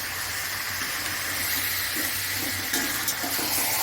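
Chicken pieces hiss loudly in a hot pan, a dense continuous sizzle close up with no pauses and a few slightly louder crackles toward the end.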